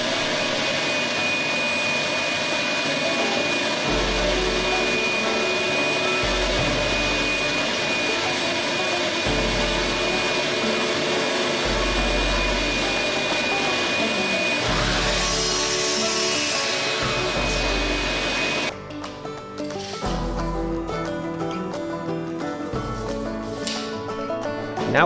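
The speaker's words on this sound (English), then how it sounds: "the first step is to cut the 2x4 supports to the correct length" A power saw cuts 2x4 lumber supports to length in a woodshop, with a loud continuous whine and repeated deeper bursts as each cut bites through the wood, near and without talking.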